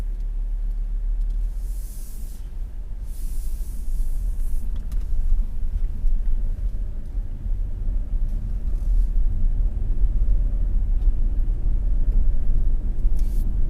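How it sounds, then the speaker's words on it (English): An Audi Q8 luxury SUV cruises on the road, heard from inside as a constant low rumble of road and engine noise that slowly grows louder, with faint airy hiss over it. "it's important to get on the road and actually drive the vehicle"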